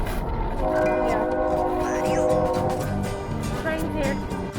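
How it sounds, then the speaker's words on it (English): A train passes close by and sounds a loud, sustained horn over the rumble and rattle of its cars, and the noise stays heavy throughout. "Train's here."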